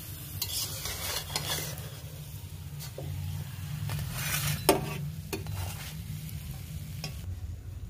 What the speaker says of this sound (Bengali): দেখুন সুন্দর ভাজা ভাজা হয়ে যাচ্ছে